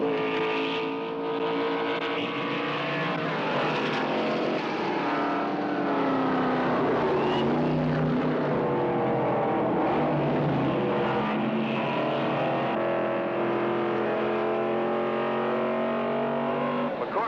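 Trans Am race cars roar past at Riverside, several engines droning and shifting pitch together in a loud, dense, unbroken wall of sound for the whole stretch, with a commentator's voice faintly beneath.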